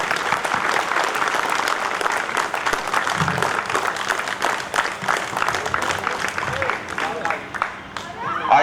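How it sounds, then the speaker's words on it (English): An audience at an Independence Day celebration applauds student performers, loud continuous clapping from a crowd that carries on throughout with faint voices underneath. "I think if we can have a loud round, a clapping for all these students who are here."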